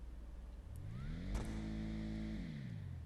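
Supercharged Gauntlet Classic muscle car in the GTA 5 video game, its engine revving loudly and climbing in pitch, then holding a steady roar before easing back, close and continuous with no talking.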